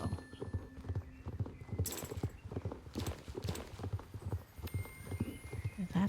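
Horse hooves clip-clopping in Star Stable Online while a Connemara is trained, a quick, even stream of near hoofbeats with a brief neigh partway through.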